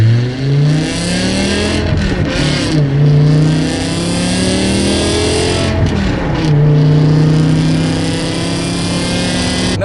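A 2008 BMW E60 M5 with a manual V10 and tuned exhaust revs repeatedly, loud and close, its pitch climbing and falling through several throttle blips with no talk.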